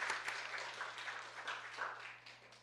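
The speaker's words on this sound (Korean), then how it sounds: "다시 한번 박수" Faint clapping from a small women's church fellowship gathering, a scattered round of claps over a low steady electrical hum, tapering off at the end.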